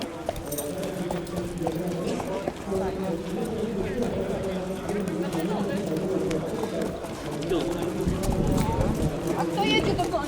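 Racehorses' hooves clip-clop at a horse race meeting, a continuous clatter of hoofbeats mixed with birdsong and steady crowd chatter throughout.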